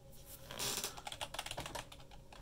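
Rapid keystrokes on a computer keyboard enter a ROM size for dumping an NES DuckTales 2 cartridge with a RetroBlaster, a close, brisk flurry of clicks lasting a couple of seconds.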